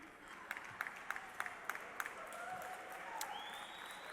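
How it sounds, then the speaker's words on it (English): Faint, thin applause from an audience at an Apollo 9 50th anniversary event, with a few distinct claps over a low crowd murmur, sounding distant and subdued. "Can we have a round of applause again?"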